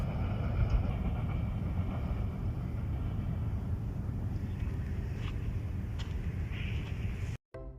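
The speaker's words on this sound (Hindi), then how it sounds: "वीवर्स ये थी 501 अप सुपर पार्सल ट्रेन जिसने मीटिंग रेलवे स्टेशन को बड़ी अच्छी स्पीड" A Super Parcel express train running at speed through Meting railway station, a steady heavy rumble and roar heard close by for several seconds that cuts off abruptly at the end.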